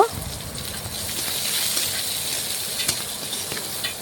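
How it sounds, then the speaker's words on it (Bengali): Chopped onions fry in hot oil with five-spice, making a steady, close hiss and sizzle with faint crackles throughout. "দিয়ে দিলাম কিছুটা পেঁয়াজ কুচি পেঁয়াজ একটু নাড়াচাড়া করে একটু ভেজে নেব"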